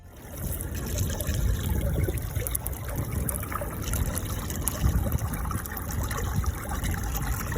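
Running river water trickles and laps steadily along a London riverbank, a close, continuous wash of liquid with low rumbling undertones and no voices.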